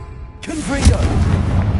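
Confringo fire spell exploding in Hogwarts Legacy: a single booming burst with a long rumbling tail, loud and close, with a voice over the start.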